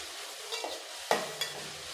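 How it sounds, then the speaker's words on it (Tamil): Soft sizzling of eggplant sautéing in a pan for sambar, with a few quick scrapes of stirring, close by and fairly quiet, no voices. "இதை ஒரு 2 நிமிஷம் நல்லா வதக்கி விட்டுருங்க கத்திரிக்காவை."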